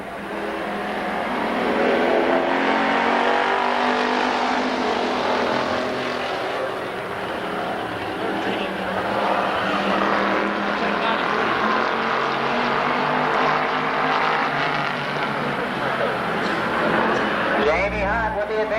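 Street stock race cars run qualifying laps at Columbus Motor Speedway, engines roaring and droning as they circle, swelling and fading with each pass, while an announcer talks continuously over the track noise.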